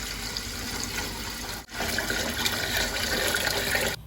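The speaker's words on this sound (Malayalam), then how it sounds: "നെയ്യ് ചൂടായ ശേഷം അതിലേക്ക് ആവശ്യമായ വെള്ളം ഒഴിച്ചു കൊടുക്കുക" Water pours steadily into a hot pot of ghee, a continuous rushing splash that cuts out for a moment and then resumes, close and moderately loud.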